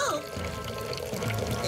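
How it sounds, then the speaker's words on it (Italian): Water pours and gushes steadily into a broken cartoon submarine, the flow continuous and fairly loud, with a character speaking over the start. "Si sta anche riempiendo d'acqua."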